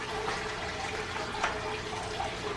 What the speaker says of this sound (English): And with one big splash